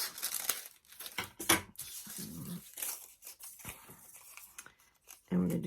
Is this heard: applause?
no